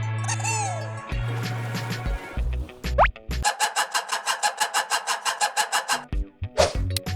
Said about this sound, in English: Lemur.